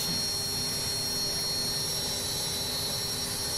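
Steady roar of a Hawk T1/A trainer's jet engine running in a flight simulator game, with a constant high whine over a broad rumbling hiss at even loudness throughout.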